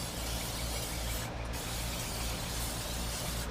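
Cooking spray hisses steadily onto the top rack of a gas grill being used to smoke baby back ribs, a continuous close aerosol rush with a brief pause partway through.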